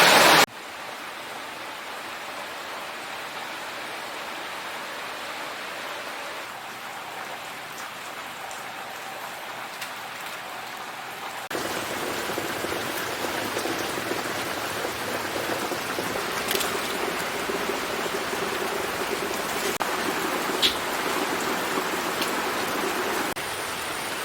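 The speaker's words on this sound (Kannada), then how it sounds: "ಜೋರು ಮಳೆ ಬಂತು." Heavy rain pours down steadily near a home, a dense, continuous hiss of drops on surfaces that grows louder partway through and continues alone without talk.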